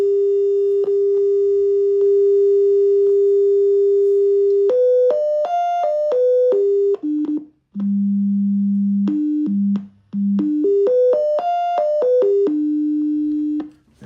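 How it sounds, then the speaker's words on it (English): A clean, steady sine tone from a function generator holds one pitch, then steps up and down through a series of different pitches, with brief pauses between some steps. "I've also wired up an attenuated sine wave from my speaker system, so from my function generator"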